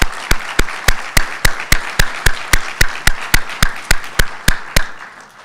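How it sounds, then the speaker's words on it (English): Sharp, evenly spaced handclaps ring out in a steady beat of about seventeen loud claps at a university nursing pinning ceremony, with no talking over them. "We should give them a round of applause,"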